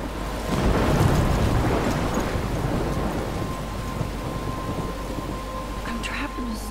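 Thunderstorm in the Life Is Strange video game, with a deep rumble of thunder swelling early and then a dense, steady wash of heavy rain that fills the rest of the scene.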